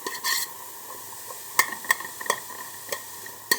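Onions sweat gently in a pot for chicken noodle soup, a soft continuous sizzle broken by a few sharp clinks and scrapes as a spoon stirs them around.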